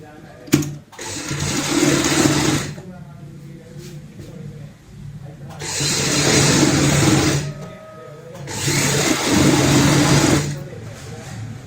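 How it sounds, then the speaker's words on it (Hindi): A home sewing machine runs in three long bursts, stitching a fabric purse bag with pauses between runs; a voice talks at times over the steady mechanical whir. "यहाँ पे इसको बीच से ऐसे पलटते हुए ऊपर से लगाएंगे सिलाई।"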